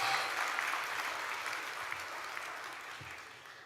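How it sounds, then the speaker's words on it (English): Graduation audience at a commencement ceremony applauding, a dense, steady wash of clapping from many hands that slowly tapers off, heard alone without talk. "give yourself a round of applause"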